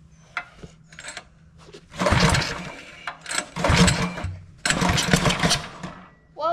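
A 16 HP go-kart engine being cranked in bursts of loud rough mechanical noise, several start attempts separated by brief pauses, close by and with no talk.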